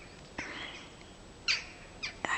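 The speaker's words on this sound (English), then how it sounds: "now that we hear the crows in the morning" Crows call on a village morning, several short caws spaced apart at a moderate distance over quiet background.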